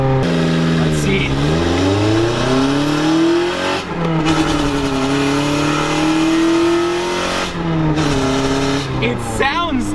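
A turbocharged car engine revs hard and close, pitch sweeping up and dropping in repeated pulls, with a brief lull between runs and a voice talking faintly over it.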